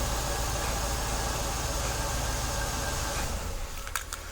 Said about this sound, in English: the engine will crank, the vehicle will start and run